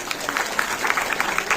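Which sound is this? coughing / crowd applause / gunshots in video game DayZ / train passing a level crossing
crowd applause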